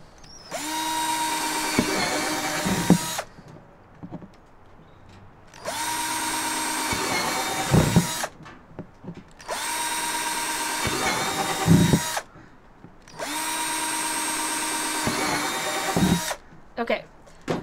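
A power drill whines loud and close as it bores holes along the side of a plastic worm box, four sustained high-pitched runs of several seconds each, separated by short pauses with faint handling noise.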